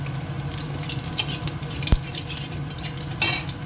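Dry red chilli and panch phoron tempering in a pan for a fish roe dish, a soft continuous crackle and sizzle with light scraping and stirring, one sharp pop partway through and a brief burst of spattering near the end.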